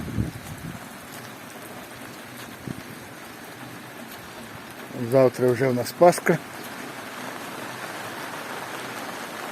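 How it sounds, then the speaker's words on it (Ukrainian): Steady rain patters on a surface in a continuous hiss, while a person speaks briefly partway through. "дощ йде, дощ йде"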